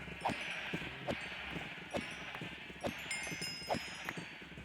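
Sheep in a blocky crafting video game bleating, a regular series of short bleats about one per second over a soft rustling background, with no talking.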